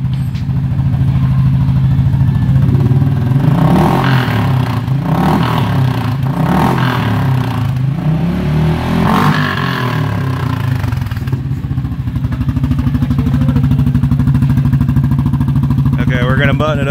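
A 2019 Yamaha Grizzly 700 ATV fitted with an EHS exhaust and quiet cores idles with a deep thrum and is revved several times in loud close bursts, while a person talks over it.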